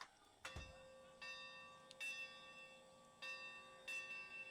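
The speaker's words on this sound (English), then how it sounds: "we'll activate the bell" A Santa Fe locomotive bell in the train simulator Derail Valley rings in slow, evenly spaced metallic clangs, each strike leaving a bright ringing tone that lingers between hits, heard alone and fairly faint.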